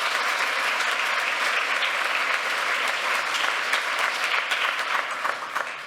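An audience at a French-language workshop applauds the speakers and artists, a dense, sustained wash of many hands clapping at moderate level that tapers slightly near the end.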